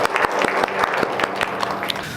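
A church congregation bursts into applause, with dense, close, steady clapping from many hands over about two seconds.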